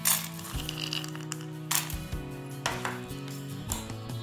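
Dry chana dal and peanuts rattle into a frying pan in several quick pours, each a bright scattering clatter over a low steady hum.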